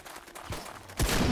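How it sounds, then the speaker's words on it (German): A few sharp gunfire-like pops, then a loud, close explosion of a shot gas pump in the video game 7 Days To Die bursts out near the end. "Da hab ich drauf geschossen, deswegen ist es explodiert."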